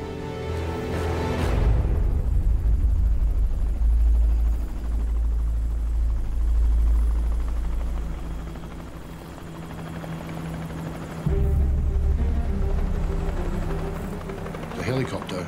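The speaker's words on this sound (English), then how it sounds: "There's a helicopter!" A rescue helicopter's deep rotor thrum drones loudly and steadily, swelling and fading slightly as it passes near a boat's mast, with people shouting over it.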